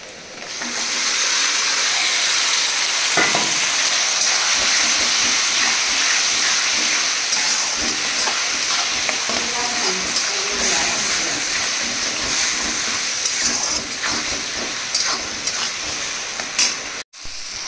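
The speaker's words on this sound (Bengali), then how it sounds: "পেঁয়াজ বাটাটা দেবো।" Onion paste hits hot oil in a pan while cooking goat meat, bursting into a loud, steady frying sizzle with a steamy hiss that holds for most of the stretch before cutting off abruptly near the end.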